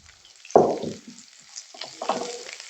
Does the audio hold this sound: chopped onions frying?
yes